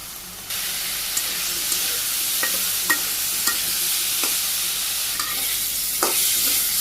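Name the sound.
potato and pointed gourd stir-fried with spices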